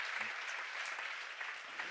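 Applause from a church seminar audience, a steady, moderately faint wash of clapping with light vocal murmur mixed in.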